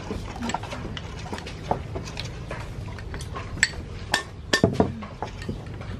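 A spoon clinks and scrapes against a bowl while coconut milk batter for Mekong Delta-style bánh xèo is stirred smooth. The light taps come close and irregular over a soft background hum.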